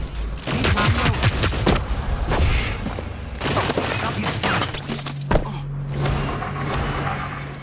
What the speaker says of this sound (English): So there I destroy his mine.